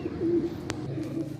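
Pigeons kept by a Karachi pigeon fancier cooing briefly in soft low rolls, broken by one sharp click midway.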